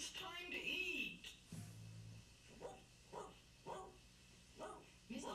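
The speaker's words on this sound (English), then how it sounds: "Pepper barked a long time." A dog named Pepper barks repeatedly, a steady series of fairly faint, evenly spaced barks following a brief stretch of other sounds.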